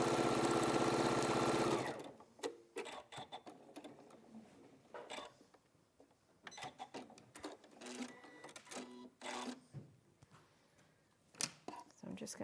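A sewing machine stitches down marked lines on a folding caddy project, starting with a loud continuous mechanical whir that stops, followed by brief intermittent runs and clicks while a voice talks over them.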